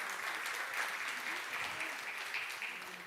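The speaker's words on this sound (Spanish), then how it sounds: "Denle ese aplauso al Señor." A church congregation applauds during a Spanish-language Easter resurrection sermon, a sustained crowd of clapping from many hands, steady and fairly close, fading slightly toward the end.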